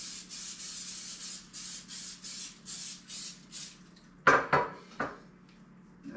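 Rhythmic rubbing and brushing strokes while greasing a cupcake pan, repeated soft swishes at a steady pace, followed by a few sharp metallic clanks of the pan; quiet and close, no voices.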